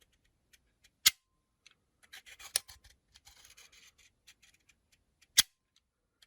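Sharp metallic clicks ring out close up from a Sa vz.61 Skorpion submachine gun cutaway, two loud hammer and bolt snaps separated by softer scraping and rattling of mechanical parts in a quiet room.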